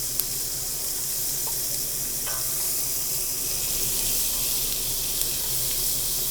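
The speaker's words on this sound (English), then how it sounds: "So right now I'm sauteing the onions until they get soft." Onions sautéing in a pan for chicken cacciatore give a steady, soft sizzle, an even hiss that runs the whole time, with a few faint clinks and stirring touches and no talk.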